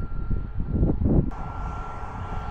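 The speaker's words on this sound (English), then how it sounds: "A Boeing 737 MAX 8200." A Ryanair Boeing 737 MAX 8200 airliner roars past at a distance as a broad, steady engine rumble, swelling briefly and then settling into a continuous hum.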